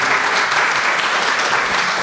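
An audience at a Spanish-language conference applauds the speaker, a short, steady burst of dense clapping filling the room.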